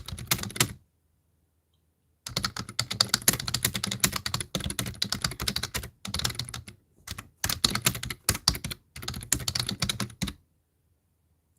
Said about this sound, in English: all I'm doing is typing away.